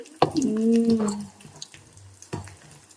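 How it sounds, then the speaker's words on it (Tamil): Coconut milk poured into a simmering fish curry, a short liquid pour and splash near the start followed by soft bubbling and a couple of light clinks, recorded close. "நாங்கள் தேங்காய் ஊற்ற போகிறோம்"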